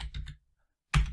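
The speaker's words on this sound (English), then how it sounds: "So here you have to type the name again." Quick keystrokes rattle on a computer keyboard, a short burst of close clicks, a pause of silence, then another firm cluster of taps.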